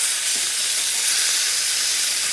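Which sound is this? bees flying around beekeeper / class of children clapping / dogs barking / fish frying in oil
fish frying in oil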